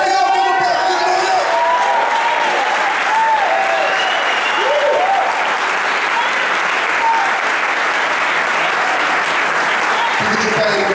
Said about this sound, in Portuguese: Quem entende isso, aplaude o Senhor pelo perdão.